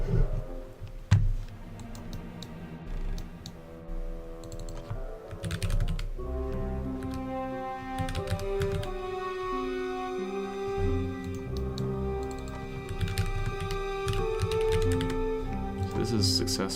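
Rapid, uneven clacking of computer keyboard keys runs continuously under background music, near and moderately loud.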